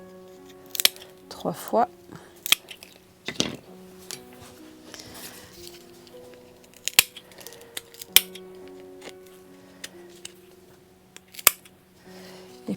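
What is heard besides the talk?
scissors cutting the hooks off Christmas star baubles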